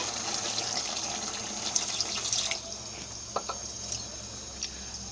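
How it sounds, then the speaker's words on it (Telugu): Water runs and splashes steadily into a curry pot for a couple of seconds, then stops, leaving a few faint clinks over a quiet background hum. "ఇప్పుడు తిప్పుకున్నాక మనకి ఎంత కావాలో అంత వాటర్ పోసుకుందామండి."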